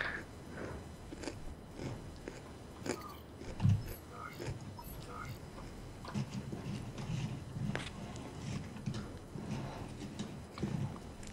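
Soft, wet chewing close to the mic, heard as a steady run of small bites and mouth clicks, faint and irregular, over a low background hum.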